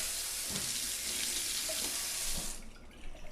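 AeroPress coffee maker parts rinsed under a running tap, a steady hiss of splashing water that stops abruptly near the end, followed by a few faint clinks.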